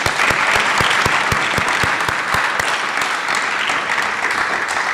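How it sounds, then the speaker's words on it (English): A crowd applauding steadily throughout at a Flight Academy graduation ceremony, dense clapping with a few louder individual claps standing out. "Cadets, join me in giving your parents a round of applause."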